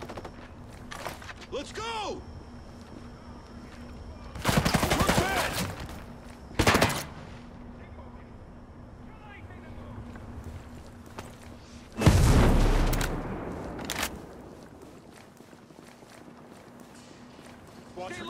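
Gunfire in Ghost Recon Breakpoint in a winter setting, with a few loud bursts of shots and booms separated by stretches of quieter ambience, and voices shouting and talking throughout.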